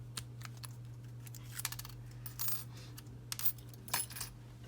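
Small sharp clicks and taps come from removing the SIM card and SD card from an Honor 6X smartphone, several brief plastic-and-metal ticks spread irregularly over a low steady hum.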